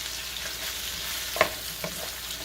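Garlic frying in a pan for a lamb stew, with a steady low sizzle throughout and a single sharp stirring scrape near the middle, heard alone without voices.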